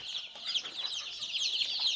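A group of chicks in a greenhouse cheeps continuously, a high-pitched, overlapping chatter close by with no other sounds.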